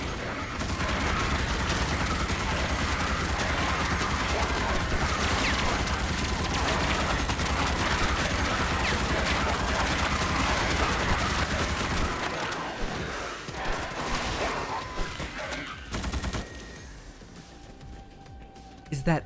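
Sustained rapid gunfire in the Starship Troopers video game, a dense loud barrage for about twelve seconds that then thins into scattered shots and mechanical clatter, with a voice talking over it.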